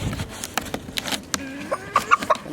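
Live chicken clucking up close in a Cameroon village, short sharp clucks and squawks scattered among scuffling and handling noises.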